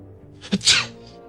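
A single sharp sneeze in an audio drama scene, close and fairly loud, with a short intake just before the main burst and quiet room tone after.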